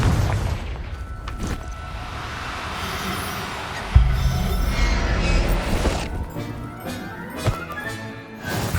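A Confringo fire spell in Hogwarts Legacy sets off a sudden heavy boom at mid-clip, followed by rumbling debris and clanking mechanical game sounds, with another smaller impact later and no voices.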